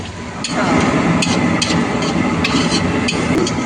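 Coriander and onion dropped into a hot pan while making masala dahi poha, giving a steady loud sizzle and frying noise with scraping stirs and a few sharp clanks of a utensil against the pan.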